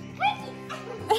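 A Corgi puppy lets out a couple of short, high yips and whimpers at close range, soft overall, over a low background hum.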